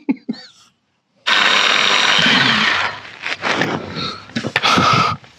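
A drill with a 3.3mm steel bit whines loudly into metal for a couple of seconds, followed by irregular clattering and grinding bursts close by.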